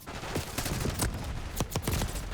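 Rapid bursts of Call of Duty gunfire crack out in quick succession, several sharp shots spread across the moment over constant game background noise.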